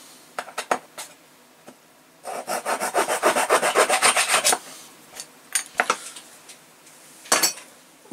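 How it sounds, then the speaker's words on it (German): A wooden part for an OcCre San Felipe ship model being cut with a small hand saw, close up: a run of quick rhythmic rasping strokes, with scattered knocks and scrapes before and after. "Auch den sägen wir jetzt ab."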